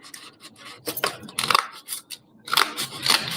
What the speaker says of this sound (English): Let me trim this a little bit.